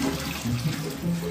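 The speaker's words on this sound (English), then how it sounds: "I'm gonna try filling the top of my toilet with hot water." Hot water runs steadily into the tank of a color-changing mood ring toilet, a continuous close rushing pour with a faint low hum and no speech.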